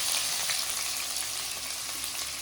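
Sliced onions drop into hot oil with cinnamon, cloves and cardamom for rava kichadi, giving a steady, close, even hiss of frying that holds for the whole stretch with no voices.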